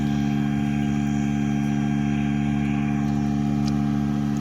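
A Massey tractor engine runs with a steady, close, humming drone and no breaks, with no voices over it.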